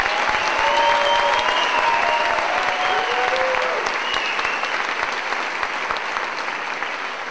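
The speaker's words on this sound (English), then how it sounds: "please give our class of 2017 Commencement Award winners one more round of applause" Sustained applause from a school promotion ceremony audience honouring Class of 2017 commencement award winners, dense and even clapping that fills the whole stretch and tapers slightly near the end, with faint voices mixed in.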